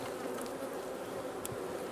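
Honey bees buzzing on hive frames during a beekeeping inspection, a steady dense drone of many bees, close and continuous, with no talking.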